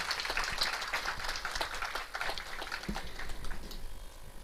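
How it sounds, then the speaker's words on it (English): Quiet, distant audience applause after a plaque is inaugurated at a NIELIT centre ceremony, a thin patter of many clapping hands that fades slightly toward the end. "So please have a round of applause."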